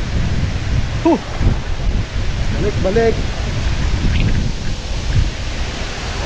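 Strong wind gusting at Maranum Falls in Natividad, Pangasinan, a loud continuous roar buffeting the microphone, with people briefly talking and calling out over it.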